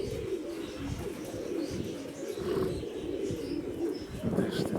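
Pigeons cooing softly outdoors, low repeated coos with a few faint chirps over steady background noise, at moderate distance.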